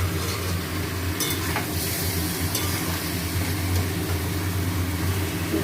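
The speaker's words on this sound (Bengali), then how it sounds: "ভালো করে কষানো।" Chicken with potato, taro and whole garlic cloves stir-fried in a pan, giving a loud, continuous sizzle with scraping stirring strokes and a low hum beneath.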